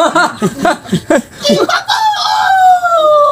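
A rooster crows loudly and close by, opening with choppy clucking notes and ending in a long, drawn-out call.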